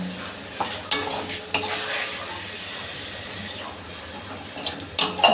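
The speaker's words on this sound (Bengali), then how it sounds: "মাংসটা কষানো হয়ে গেছে এবার আমি অল্প করে জল দেবো" Spiced chicken pieces sizzle and are stirred in a pan as a little water goes in, with a steady frying hiss and a few sharp scrapes and splashes spaced through the clip.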